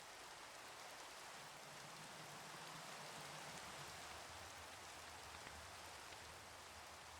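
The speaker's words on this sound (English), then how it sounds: "It's raining." Steady rain falls in the Minecraft Oceanblock 2 game world, a continuous even hiss of raindrops that holds at constant strength throughout with no voices.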